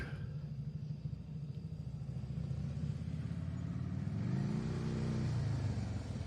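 A motorcycle engine rumbles steadily at idle as it pulls up, then revs and climbs in pitch as it pulls away, loud and close throughout with no voices.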